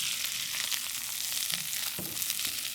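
Eggplant sizzles loudly in a hot pan with ginger and onion for a Chinese stir fry with chicken, a steady dense crackle broken by a few stirring clatters near the end.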